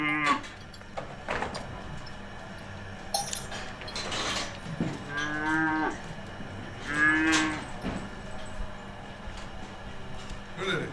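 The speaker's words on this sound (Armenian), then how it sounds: "Անասուն պահելը, եթե կով ենք ունենում, դե գյուղացին, մի կերպ պահում ենք։" Cows low in an open field on a village farm, with two drawn-out moos in the middle over faint background clinks and rustling.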